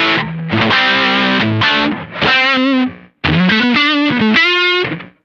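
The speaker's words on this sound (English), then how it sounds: "So when mix is on 0, you're just hearing the distortion" Heavily distorted electric guitar runs through an ART SGE multi-effects rack unit with the effects mix turned off and a noise gate working, giving sustained chords and bends in bursts that cut abruptly to silence between phrases.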